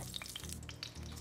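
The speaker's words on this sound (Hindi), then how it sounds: "इनको आपको सिर्फ क्रैकल करने तक पकाना है" Asafoetida, cumin, bay leaf, fennel and fenugreek seeds crackle in hot oil, a quiet continuous sizzle dotted with quick bright pops and spits over a low hum.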